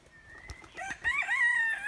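Roosters and chickens in a poultry yard of about forty birds, a few short clucks followed by a loud, drawn-out cock-a-doodle-doo crow close by, no talk.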